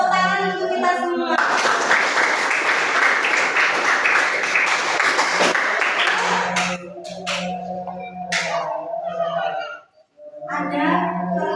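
Applause from a seated group at a school anti-corruption session, several seconds of dense clapping followed by scattered voices and talk.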